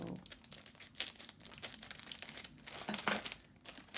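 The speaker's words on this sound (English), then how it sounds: "this is loud plastic. I'm sorry, I should have opened it, but let's try to open it here." Crinkly plastic packaging is handled and pulled open up close, giving a continuous crackling, rustling texture with sharper crunches throughout.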